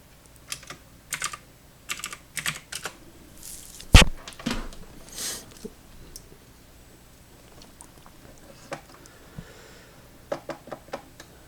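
Someone types on a damaged computer keyboard in close, irregular bursts of clicky keystrokes, with one sharp louder clack partway through and quiet gaps between the runs.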